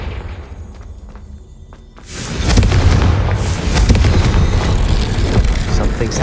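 A spell explosion from the Hogwarts Legacy video game bursts in abruptly after a quiet stretch, followed by a loud, sustained rumbling blast with crackling debris that fills the rest of the moment.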